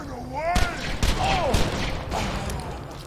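Gunfire in the Borderlands 2 video game: several sharp shots in quick succession, close and loud, over a busy backdrop of game effects and sci-fi whooshes.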